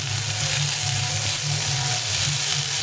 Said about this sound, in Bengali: পটলটাকে একটু ভেজে নেব।